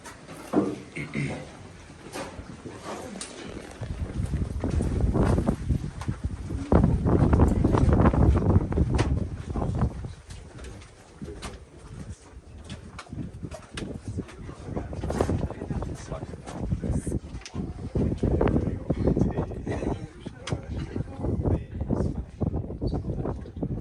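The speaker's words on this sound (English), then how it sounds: "as you feel it's quite windy here because it's also part of the artificial ventilation" Strong wind from a mine ventilation shaft about 100 meters underground in Poland buffets the microphone with a low, rumbling roar that surges and eases, and muffled talk sits faintly underneath.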